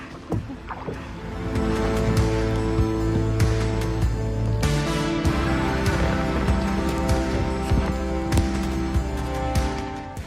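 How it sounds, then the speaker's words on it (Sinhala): A boat engine running on the Kelani river, a loud steady drone with a deep rumbling hum that holds throughout, starting after a brief quieter onset, with scattered clicks and splashes over it. "අපේ බෝට්ටු එන්ජින් එක."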